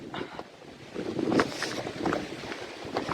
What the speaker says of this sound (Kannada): ಈಗ ಫುಲ್ ಮಳಿ ಬರತೈತಿ ಫುಲ್ ಅಂದ್ರೆ ಫುಲ್ ಮಳಿ ಬರತೈತಿ ಗಾಳಿ ಫಾಗ್